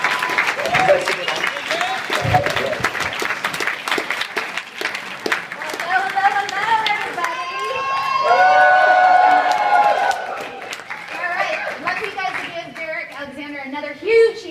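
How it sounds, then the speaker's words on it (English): A large crowd applauds and cheers loudly and steadily, with voices calling out over the clapping. "Another huge round of applause."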